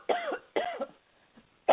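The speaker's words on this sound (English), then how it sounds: "hold on a second, I have to cough." A woman coughs three times in short, loud bursts, with a brief quiet gap between the second and third.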